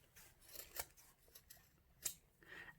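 Scissors snipping through fabric and thread on a shirt collar for a memory bear, several short, crisp cuts spaced unevenly, faint and close, with no talk.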